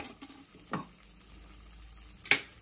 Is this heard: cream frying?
yes